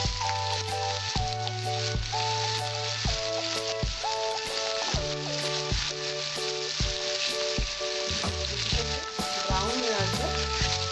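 Chopped onion fries in a pan for a Bengali katla fish kalia, a steady crackling sizzle running the whole time beneath prominent background music.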